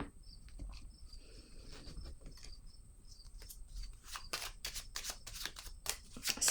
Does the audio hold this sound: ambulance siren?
no